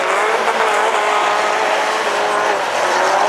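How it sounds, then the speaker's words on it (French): Rallycross race car at full throttle, a loud continuous engine roar near and steady throughout, with a hint of tire noise on the circuit at Dreux during a French championship semi-final. "sois cool Lucie, accélère les roues bien droites comme on apprend à l'école de pilotage"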